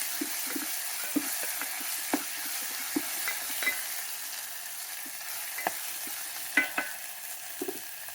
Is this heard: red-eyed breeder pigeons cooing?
no